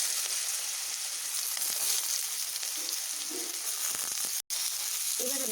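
Potatoes sizzling in hot oil in a pan, a steady close hiss with faint bubbling crackle, briefly cut by a short silent gap.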